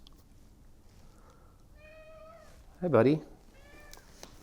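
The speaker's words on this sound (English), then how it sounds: "My cat came to visit me." A house cat gives a single clear meow close by in a quiet indoor room, after a person briefly greets it; soft background hiss and a few faint household sounds around it.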